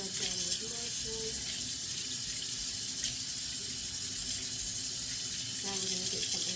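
Warm water runs steadily from a motion-activated sink tap for handwashing, a continuous soft splashing hiss that holds at an even level throughout.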